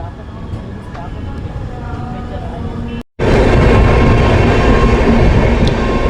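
Amritsar Ajmer Express (19612) rolling on the rails, a steady loud rumble of wheels and carriage noise that drops out briefly midway, then returns louder and broader; someone talks over it.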